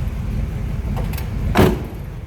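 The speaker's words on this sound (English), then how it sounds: "how nicely that door closes" A single solid door of a 1941 Mercury Town Sedan thumps shut once, over the car's steady low engine rumble.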